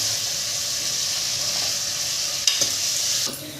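Marinated mutton sizzles steadily in an oiled kadhai while being stirred, a constant loud frying hiss broken by a few scraping knocks of a spoon against the pan near the end.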